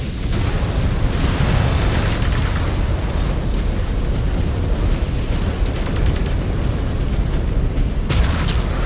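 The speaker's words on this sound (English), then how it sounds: "those fire effects though" Fiery explosions and booms from mech combat in Mechwarrior 5: Clans, a dense, continuous roar of blasts and crackling fire throughout, loud and close with no clear gaps.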